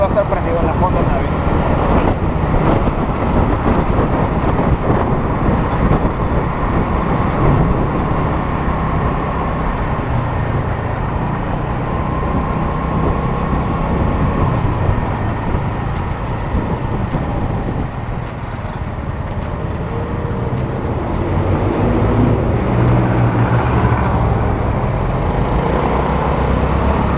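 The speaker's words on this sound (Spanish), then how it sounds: "Más denso el tráfico conforme vamos entrando a la ciudad." Dense city traffic rumbles around a small Honda Navi motorcycle while riding, with steady low engine and road noise and wind buffeting, while a voice talks over it at times.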